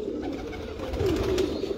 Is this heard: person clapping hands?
no